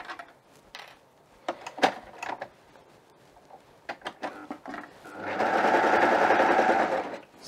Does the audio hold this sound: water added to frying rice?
no